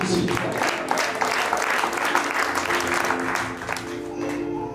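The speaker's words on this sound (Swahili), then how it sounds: "Pigieni Yesu makofi." A church congregation applauds for Jesus, a dense sustained clatter of many hands that fades slightly toward the end, with some voices mixed in.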